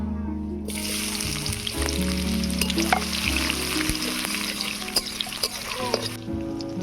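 Chopped onions fry in hot mustard oil with dried red chilli, nigella seeds and ginger-garlic paste, giving a steady close sizzle and crackle throughout, with occasional stirring scrapes.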